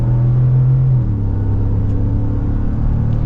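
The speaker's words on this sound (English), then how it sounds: "Love the sound of that exhaust." A lifted Ford F-150 Black Ops pickup's 5.0 V8 exhaust drones close and loud, a strong low note easing back after a second into a steady lower rumble under partial throttle.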